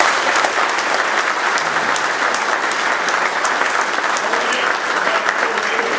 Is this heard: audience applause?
yes